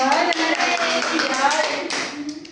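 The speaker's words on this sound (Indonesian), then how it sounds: "tepuk tangan untuk" Pupils in a primary school classroom clap together during a teaching practice lesson, a steady patter of hand claps mixed with children's voices that continues throughout.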